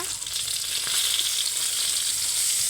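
Eggplant (begun) slices frying in oil in a home Bengali kitchen, a steady close sizzle with bright crackle throughout, no talking.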